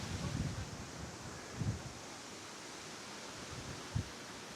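Wind blows outdoors by a lake, a soft steady rush of air with a few brief gusts buffeting the microphone, faint and low with no one speaking.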